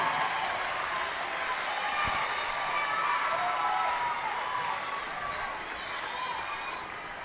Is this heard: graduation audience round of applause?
yes